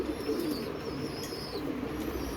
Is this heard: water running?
no